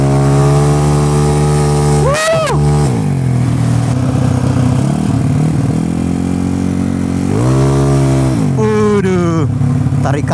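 A Yamaha Mio scooter bored to 300cc revs hard and accelerates, its engine note climbing, dropping and surging again in repeated pulls, loud and close, with a short upward rev sweep near the end.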